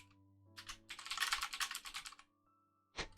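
Rapid typing on a computer keyboard, close and quiet: a short burst of taps, a longer flurry of keystrokes, a pause, then a few more presses.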